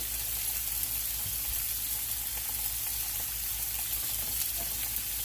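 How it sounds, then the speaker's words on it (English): Steady, quiet sizzling of marinated meat frying in a hot pan on high heat, a continuous crackle with no talking. "I'm frying them on high heat."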